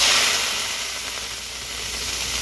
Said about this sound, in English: be careful when you put it in, because it's going to sizzle on you